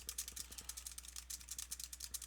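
Rapid, light clicks of keys being typed on a keyboard, a quiet continuous patter with an uneven rhythm over a low hum.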